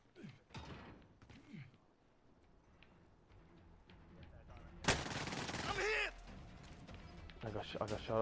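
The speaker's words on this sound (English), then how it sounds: "I got shot at there." Gunfire in the battle royale video game Warzone: a loud, dense burst of rapid shots lasting about a second near the end, with quieter game sounds and voices before it.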